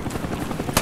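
A Cobra attack helicopter in the video game Call of Duty Black Ops thrums with rapid, pulsing rotor chop under dense multiplayer battle noise, loud and close, with a sharp burst near the end.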